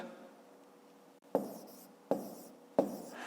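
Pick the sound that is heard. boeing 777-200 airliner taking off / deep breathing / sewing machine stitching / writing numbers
writing numbers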